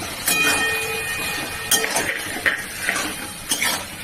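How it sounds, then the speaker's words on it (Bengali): Paneer cubes tipped into a cooking pan and stirred, giving several clattering metallic scrapes and knocks of a spatula against the pan at irregular intervals, close and fairly loud, with faint background noise. "এবার পনিরগুলো দিয়ে দেবো"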